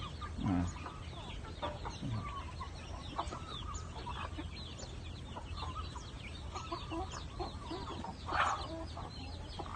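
Backyard Thai native chickens cluck and call steadily across a farm yard, with a few louder nearby clucks and a brighter call near the end over a constant outdoor bed.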